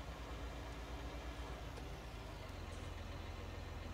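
Tractor driving in Farming Simulator 19, a steady, dense engine drone with low rumble that holds at an even level throughout, no voices over it.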